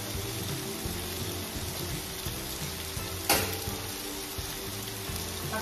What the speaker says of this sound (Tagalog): Medyo matagal-tagal to i-fry.